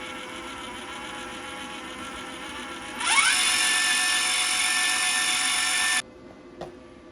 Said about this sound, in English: You can see it goes slow until for a few seconds, and then it speeds up. That's typical for a lot of spool guns.